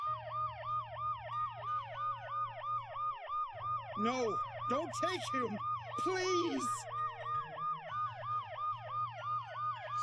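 Ambulance siren in the video game Dead Synchronicity, a loud steady wailing tone rising and falling continuously through the scene while a distressed voice shouts and pleads over it.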